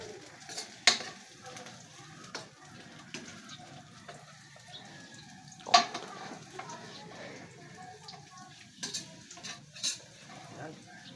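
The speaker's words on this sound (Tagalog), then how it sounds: "Pag ako nagigisa, mauna ko yung kalabasa." Squash sautéing in a pan for dinner, with quiet sizzling under occasional clinks and scrapes of a utensil against the pan, plus a few sharp knocks; a voice speaks at times.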